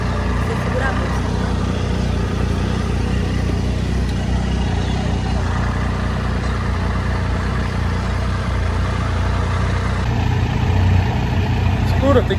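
A black Tiger motorcycle engine idles steadily up close, a constant low rumble with some background noise that shifts slightly near the end.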